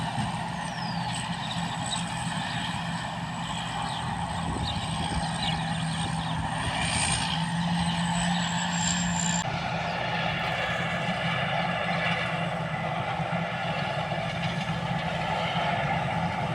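A rice combine harvester works steadily through a paddy field late in the season, a constant droning engine hum with a faint high whine, moderately distant and unbroken, no speech.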